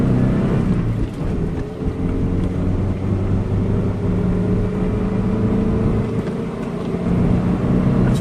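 A 1993 Mazda B2600 4x4 pickup with a new exhaust, rolling out of a roundabout and revving to about 3,500 rpm in third gear: a loud, steady engine drone with a deep exhaust note that holds throughout, with no talking.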